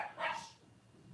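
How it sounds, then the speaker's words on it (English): Dogs bark briefly at close range, a short burst of a couple of yips early on and then fading to quiet room noise. "Dogs are barking."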